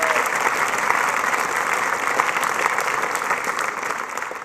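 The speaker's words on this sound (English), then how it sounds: "so let's give her a round of applause." Steady applause from the audience at a high school graduation ceremony, a dense wash of many hands clapping that fades slightly toward the end.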